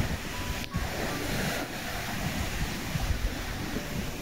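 Strong wind gusting along the Brittany coast, a loud continuous roar buffeting the microphone with surf-like rushing and a few sharper gusts, no voices.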